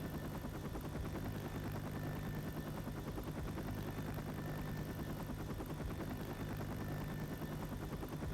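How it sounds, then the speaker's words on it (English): Helicopter engine from the game Left 4 Dead: a steady, dense rotor and turbine drone that holds at a constant low level throughout with no voices over it. "Come on, get on the chopper!"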